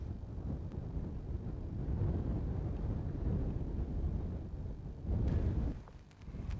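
Strong wind buffets the microphone in a continuous low roar, with gusts swelling and fading, no voices.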